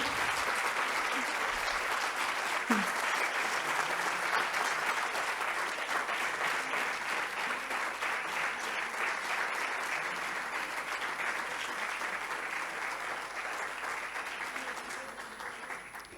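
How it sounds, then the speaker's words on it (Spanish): Sustained applause from an audience fills the whole stretch, dense and steady, fading slightly at the end. "Un aplauso, por favor, para Carmen antes de nada."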